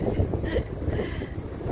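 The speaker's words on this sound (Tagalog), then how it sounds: "Lakas ng hangin naman kasi" Strong wind in Ilocos buffets the microphone in heavy, uneven low rumbling gusts, loud and close, with no talking.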